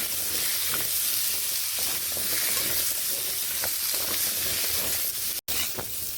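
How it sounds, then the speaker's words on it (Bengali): Pumpkin pieces frying in oil, a continuous close sizzle with occasional stirring and spatula scrapes, one very brief dropout near the end, no speech. "কুমড়োগুলোকে আমি এইভাবে ভেজে নিচ্ছি একটু ভালোভাবে ভেজে নিচ্ছি"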